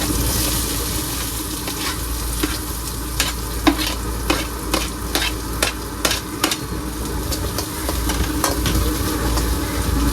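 Onions sautéing in oil in a pan, cooked on a bus, giving a steady close sizzle under a low engine-like hum, with sharp metallic clicks and scrapes of stirring scattered throughout.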